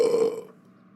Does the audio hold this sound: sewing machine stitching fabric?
no